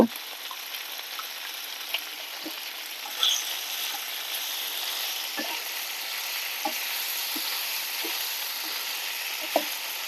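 Ridge gourd fries with cumin in a pan, giving a steady, soft sizzle, while a spoon stirs it with scattered light taps and scrapes against the metal.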